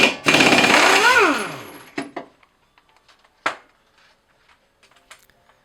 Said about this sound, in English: The rear shock bolt, just like the front, is going to come off easiest with an air gun.